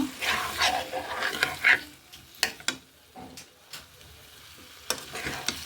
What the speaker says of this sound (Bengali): ভালো করে আলুগুলো আমি আরেকটু কষাবো।